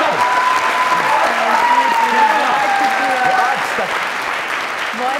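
An audience on a comedy talk show applauds a performer for her drama role, sustained clapping running steadily beneath a voice talking over it.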